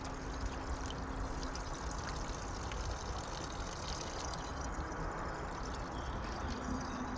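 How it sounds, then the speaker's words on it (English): Water from a watering can that has sat in a greenhouse for over a week pours steadily into water bottles, giving a continuous broadband rush with no pauses and no voices. "I'm just filling my water bottles up, and this is the easiest way to do it."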